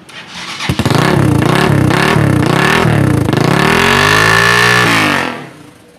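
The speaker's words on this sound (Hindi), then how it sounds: "दोस्तों जरा इसका सेल्फ स्टार्ट चेक कर लिया जाए" A motorcycle's electric starter whirs in several pulsing cranks, then the engine catches and revs up loudly, settling before cutting off.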